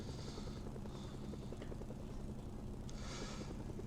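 A helicopter in the video game Mercenaries 2 gives a steady rotor chop and engine roar at a constant level throughout, with faint hissy bursts rising above it now and then.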